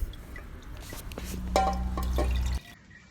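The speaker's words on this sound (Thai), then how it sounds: "ใช้แรงนะคะ บีบเอาน้ำกะทิค่ะ" Coconut milk wrung by hand through cheesecloth over a strainer drips and trickles into a container below, a close, soft wet patter rising into a brief steady stream before stopping.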